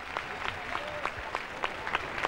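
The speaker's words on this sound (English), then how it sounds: "round of applause for Jennifer Capriati as she leaves the court" Applause from a tennis crowd at a 2001 Hong Kong women's match as a player leaves the court, with steady clapping, a few louder claps and faint crowd murmur underneath.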